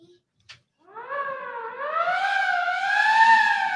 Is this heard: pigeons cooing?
no